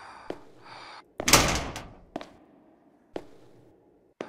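A door in a horror video game opens with a loud creaking swing and thuds, followed by several separate sharp knocks and taps against near silence.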